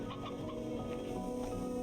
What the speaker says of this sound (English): Oh, cool. Briar hens.